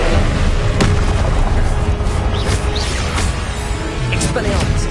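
Confringo fire spell explosions from the video game Hogwarts Legacy, a dense, loud barrage of booms and blasts over constant game noise, with several sharp bursts packed together.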